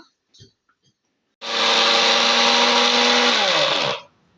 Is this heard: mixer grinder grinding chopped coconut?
yes